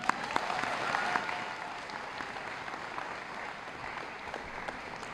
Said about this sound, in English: give a huge round of applause to all our teachers and coaches